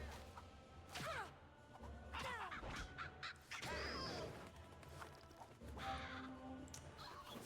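A small crow caws repeatedly during a dungeon battle in the video game Dofus, its harsh calls mixed with whooshes, whacks and crashing combat effects at close range.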